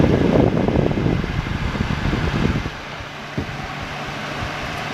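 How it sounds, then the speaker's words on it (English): A 1989 Arvin Wall Hugger heater fan blows with an airy, rushing whoosh, rougher and louder for the first few seconds, then settling into a steadier, softer hum. "It's not the quietest heater ever, but it's not the loudest either."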